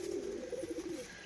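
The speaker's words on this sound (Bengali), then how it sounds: "দেখে নিন পায়রা জোড়া" A teddy pigeon gives soft, low cooing in a short, close run of rolling coos, with no talk.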